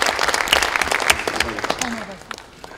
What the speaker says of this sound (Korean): 이유 없으면 큰 박수를 좀 해주시면 되겠습니다.